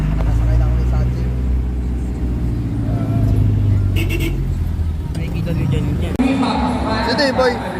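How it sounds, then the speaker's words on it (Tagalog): Ride inside a jeepney moving through traffic, a loud, constant low engine rumble and road drone close up, with passengers talking over it and a brief bump near the end. "Nakasakay na kami sa jeep."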